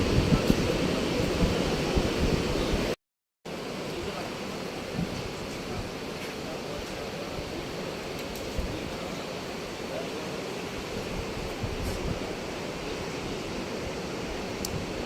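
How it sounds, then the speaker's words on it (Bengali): Sea waves wash steadily onto the beach at Cox's Bazar, a broad continuous roar with wind noise across the microphone, briefly cut once and then resuming unchanged. "এখান থেকে এই যে সমুদ্র।"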